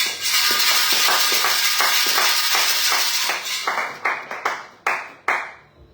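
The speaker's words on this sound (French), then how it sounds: "Acclamons pour la gloire du Seigneur." A church congregation claps in steady unison, dense rhythmic clapping that fills the room, then thins into a few scattered, sharper final claps before fading out.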